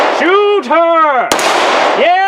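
A single sharp report from an HK P30 pistol fitted with a compensator: one brief crack is heard close by, partly masked by loud, drawn-out vocal sounds before and after it.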